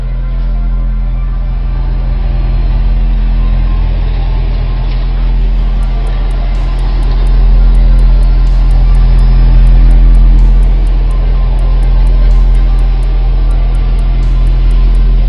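A car engine runs with a heavy, steady low rumble, loud and close, while the drive shaft turns and the car moves forward slowly, the engine swelling slightly partway through.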